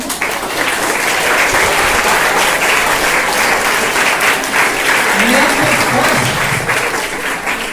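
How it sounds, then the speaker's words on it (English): Sustained, dense applause from a sizable school audience at a biology quiz fills the whole stretch, steady and loud, with a voice faintly audible beneath it. "So clap for him."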